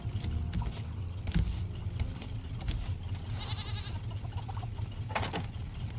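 Goats in the survival video game Raft bleat a few times over a steady low hum of in-game background sound, short nasal calls spaced apart with no one speaking.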